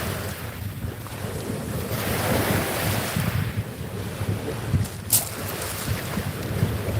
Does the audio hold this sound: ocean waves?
yes